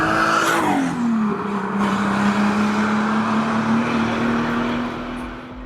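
A 1990s Volkswagen Corrado VR6 turbo engine drops from a high rev and settles into a steady, droning hum, loud and close, easing off slightly at the end.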